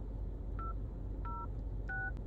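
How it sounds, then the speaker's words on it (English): Tablet-based phone keypad plays three separate dialing tones, each a short steady beep with a gap between, over a low background hum. "You can do phone calls, you can dial a number, you can call someone."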